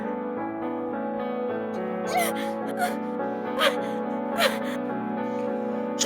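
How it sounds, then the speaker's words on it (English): Morgana, a video game character, hyperventilating in sharp, repeated gasps for breath, loud and close, over a sustained musical backing. "She's hyperventilating."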